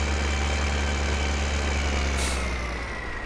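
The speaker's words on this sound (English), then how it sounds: "Put the tractor here." A tractor engine idles steadily in Farming Simulator 2015, a constant low rumble with a faint high whine, alone with no talk throughout.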